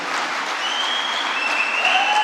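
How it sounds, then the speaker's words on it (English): Audience applause at a 2024 national elections event, a dense steady wash of clapping from a crowd with a few faint whistles, continuous throughout. "A round of applause."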